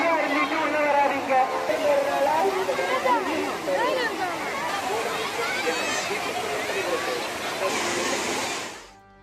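Heavy water pours like a waterfall at Kodiveri dam, a dense, continuous rush, with a lively crowd of tourists' voices mixed throughout before it cuts off.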